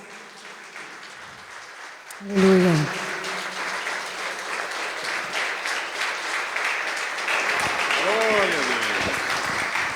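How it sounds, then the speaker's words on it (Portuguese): A church congregation breaks into sustained applause that carries on steadily for several seconds, with a voice calling out over the clapping near the start. "Vamos aplaudir o Senhor mais."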